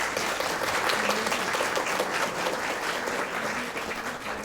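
A live audience applauds a panel of four guests in thick, continuous clapping that stays loud and even throughout.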